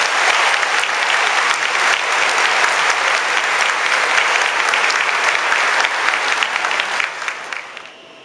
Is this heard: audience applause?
yes